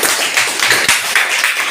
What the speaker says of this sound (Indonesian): Baik, kita kasih aplaus untuk kelompok Franciscus.